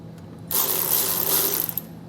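A 7/16 ratchet snugs down the mounting bolts of Firestone Ride-Rite Red Label Extreme Duty air helper springs, giving a close, continuous burst of rapid clicking lasting about one and a half seconds.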